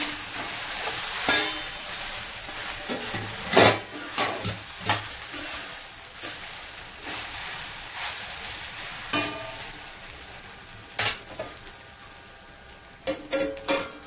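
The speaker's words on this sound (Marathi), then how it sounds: "2 मिनिटांनंतर झाकण काढून पुन्हा एकदा हलवून घेऊया. व्यवस्थित वर खाली करून घ्यायची आहे." Sabudana khichdi being stirred in a pan, a soft steady scraping and faint sizzle with sharp spoon clinks against the pan scattered throughout, close and fairly quiet.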